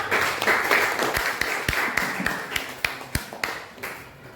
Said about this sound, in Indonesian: tepuk tangan untuk kelompok A